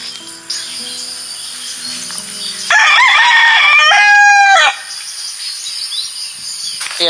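A rooster crows loudly nearby, one long rising and falling call, with faint clucking and insect chirps in the background before and after.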